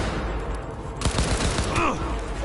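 Gunfire in the Cyberpunk 2077 video game: a quick burst of several shots in rapid succession, loud and close over a constant game background.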